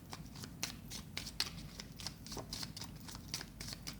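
Tarot cards are shuffled by hand in a quick, steady run of soft riffling flicks and slaps, close and moderately loud, with no voice.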